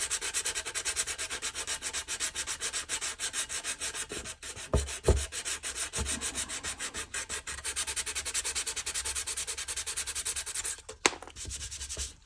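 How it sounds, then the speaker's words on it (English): A J-B Weld SteelStik epoxy repair on a busted Santa Claus figure is sanded smooth with a raspy file, a steady close rasping that runs in quick repeated strokes, with a couple of soft knocks partway through. "So I'm just going to sand basically"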